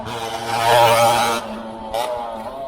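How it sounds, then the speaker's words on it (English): A loud motorcycle roars past near a cafe street, its engine revving up and peaking before fading away over a couple of seconds, with traffic noise lingering afterward. "Fucking loud motorcycles."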